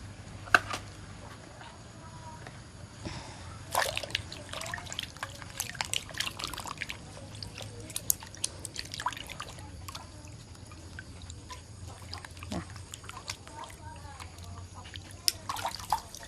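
Taro roots are washed under running water, with continuous trickling, splashing and dripping plus intermittent handling sounds at close range.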